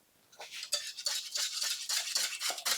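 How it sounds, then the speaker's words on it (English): A spoon stirs vanilla into a pan of custard for a trifle, a close, repeated scraping and swishing that keeps a steady rhythm of strokes against the pan. "Stir in the vanilla."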